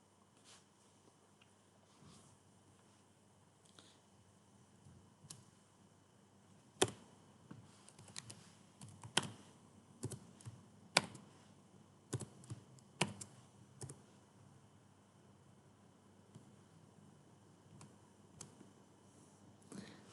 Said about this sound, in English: Click cell J1 and then type 125.